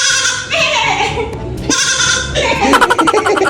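A goat bleats loudly and close up in several long, wavering calls, with a brief stuttering bleat at the end.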